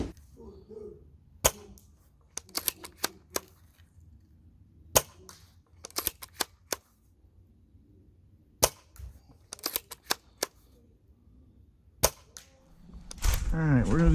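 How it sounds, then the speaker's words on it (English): An Ares Amoeba Striker AS-01 airsoft sniper rifle fires BBs in a backyard, giving sharp isolated cracks spaced a few seconds apart with quieter bolt-handling clicks between shots. "we're gonna do some backyard shooting today with the Striker AS-01"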